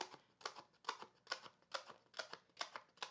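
Quiet, rhythmic crisp cuts repeating about twice a second, like scissors snipping through paper close up, with no talking.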